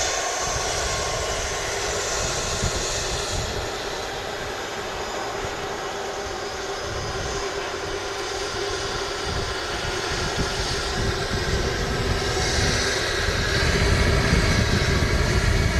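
A Jet2 Airbus A321 touches down at Manchester Airport, its engines roaring loud and steady throughout, with a deep rumbling swell toward the end as it rolls along the runway.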